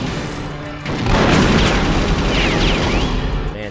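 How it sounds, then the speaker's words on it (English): Explosions in the Perfect Dark shooter game, a loud broadband boom swelling after about a second into a sustained roaring blast with debris-like crackle, loud and alone. "sometimes the explosions are surprisingly unreliable in this game compared to some newer games"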